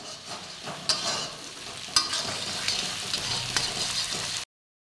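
Masala spices fry with a sizzle in a pan while a spoon stirs them, producing steady crackling and a few sharp scrapes and taps about once a second, close by, before the sound cuts off abruptly near the end.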